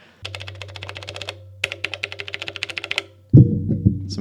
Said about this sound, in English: Some clicky button ASMR.